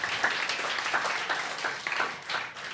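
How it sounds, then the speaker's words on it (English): A live audience at a comedy draft show in New York claps for new teams, a brief, fairly soft patter of many hands. "round of applause for our new teams"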